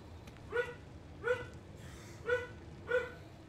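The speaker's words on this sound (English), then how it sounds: "Yep, sorry about my dog, guys." A pet dog in a room barks four times in short, sharp yaps spaced about a second apart, fairly faint and a little distant, with no voices over it.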